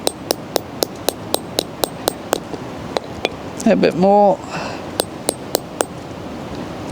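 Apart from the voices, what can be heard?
hammer tapping a grommet onto an FPV RC wing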